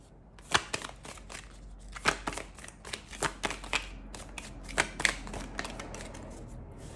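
Playing cards being shuffled and split by hand in a cleansing reading, a series of crisp riffling bursts and sharp slaps at uneven intervals, close and clear with no talking.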